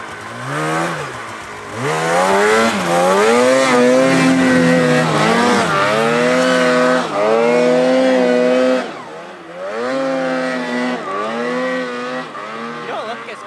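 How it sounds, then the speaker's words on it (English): Ski-Doo turbo snowmobile being ridden on snow, its engine loud and near, rising and falling through repeated revving sweeps with a brief dip partway, while people talk and call out over it. "That's a Skidoo. Hey! With a turbo."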